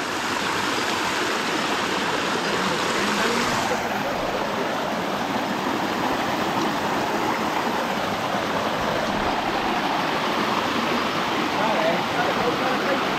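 A waterfall roars steadily and loudly throughout, a continuous dense rush of water with no breaks.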